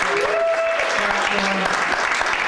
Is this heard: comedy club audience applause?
yes